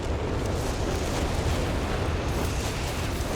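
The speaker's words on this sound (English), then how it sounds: "And here comes the whiz-bang." Whiz-bang rocket artillery barrage in Company of Heroes 3, a dense, loud continuous rumble of overlapping blasts filling the whole stretch without pause.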